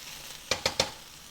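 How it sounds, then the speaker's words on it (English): Okra frying in a pan for Southern fried okra gives three short, sharp sizzling bursts in quick succession over a faint background hiss, close by. "It does take constant watching to fry okra."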